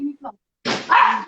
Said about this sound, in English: now that's my dog